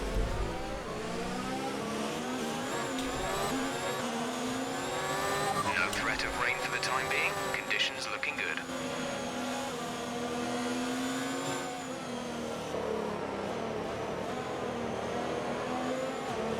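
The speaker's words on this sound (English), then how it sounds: "I love the way the engines sound in 2019." Formula 1 race car engines in the F1 2019 video game scream at high revs in a sustained, continuous drone with shifting pitch through gear changes, while a person talks over the game sound.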